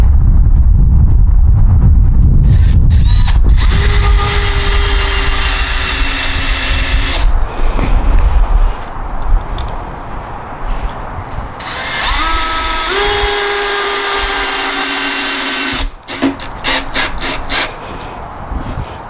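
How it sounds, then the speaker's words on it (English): A power drill drives screws into the corner of a wooden raised-bed planter box, with two separate bursts of the motor whirring as it sinks the screws, close and loud, broken by short pauses and handling knocks. "we'll put 2 more screws in here"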